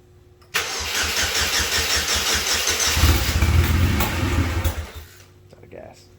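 A 2004 Chevrolet Cavalier turbo engine cranks and catches after a new fuel pump install, running roughly on old gas for several seconds, loud and close before cutting out, with people talking nearby.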